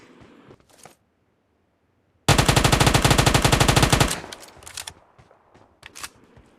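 An Uzi submachine gun fires one sustained rapid automatic spray lasting about two seconds in a video game, loud and close, with sparse game sounds before and after.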